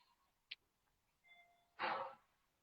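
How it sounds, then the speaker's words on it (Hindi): A soft electronic doorbell chime with a couple of sustained tones, followed by a brief noisy burst; quiet and otherwise still. "ये मेरी घर की डोरबेल है"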